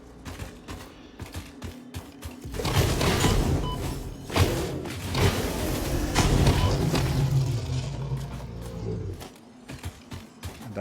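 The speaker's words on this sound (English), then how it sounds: "And that's exploding." An explosion in the factory-building game Satisfactory: a heavy rumbling burst swells after a few seconds of rapid clattering thumps and rolls on for several seconds before fading back to quieter rattling.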